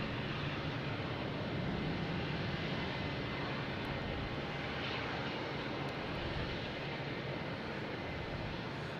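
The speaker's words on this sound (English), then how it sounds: "we have a Delta taking off at E175 on runway 9" Delta Embraer E175 regional jet on its takeoff roll at Boston Logan: a continuous broad engine roar, distant but steady, filling the whole stretch without voices.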